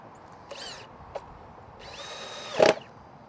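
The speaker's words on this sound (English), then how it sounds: "There's pre-drilled holes. Take your drywall screws." A power drill drives drywall screws into pre-drilled holes while a cider press motor kit is assembled: two short whirring bursts, a tiny click, then a louder burst ending in a sharp clunk, all close by.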